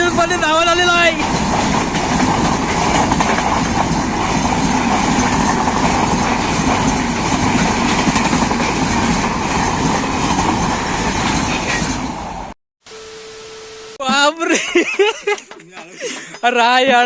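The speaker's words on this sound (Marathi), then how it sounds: "वाईट ट्रेन आली अचानक" A train passes near the Devi Sukai Zolai Kalkai temple at Dhamandevi, Chiplun, in the Konkan. Its loud, continuous rumble and clatter fill the air up close, then cut off abruptly, followed by brief louder bursts.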